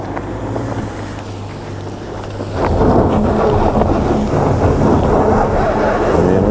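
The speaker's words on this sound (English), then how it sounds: "traction control there should hopefully break those slipping wheels that are spinning" A Subaru Crosstrek labors up an off-road test hill, its engine and drivetrain droning loudly and steadily while slipping wheels spin, the noise swelling partway through, with wind rushing over the microphone and no talk.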